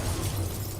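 The Incendio fire spell from a Harry Potter video game bursts out as one short, loud whooshing blast that fills the brief moment.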